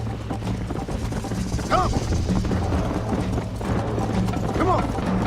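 Horse galloping in the western video game Red Dead Redemption, rhythmic hoofbeats pounding loudly and close alongside music, with a brief spoken call in the middle.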